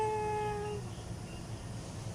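A cat lets out one drawn-out, tonal meow that fades within a second, followed by quiet background rumble with no talking.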